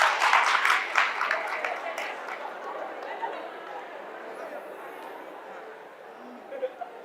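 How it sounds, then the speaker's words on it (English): Audience at a patriotism tour event applauds, a loud burst of crowd clapping at the start that fades into murmuring chatter and distant scattered claps over the remaining seconds. "Clap for yourselves."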